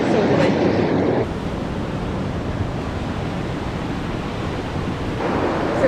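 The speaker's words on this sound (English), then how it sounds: "the ocean is very rough" Rough ocean surf at Long Bay, Jamaica, roars as a loud, broad continuous wash with a heavier surge at the start and end, close and unbroken.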